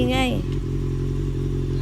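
A sports motorcycle engine idles and revs with a steady, throbbing mechanical drone close by. A voice speaks briefly over it at the start.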